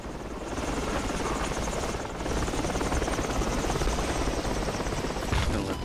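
Helicopter in a video game set around a construction site and alleyways, a steady loud rotor buzz and whine filling the whole stretch without pause, with faint voices underneath.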